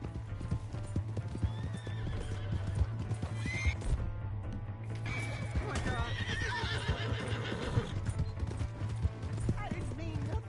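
Hooves clop in a steady galloping rhythm in Red Dead Redemption 2, with loud horse whinnies breaking through and voices talking over a constant low hum.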